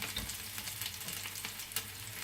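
Garlic sizzles steadily in a hot pan with caramelized onion, a continuous bright frying crackle with small pops and no voices.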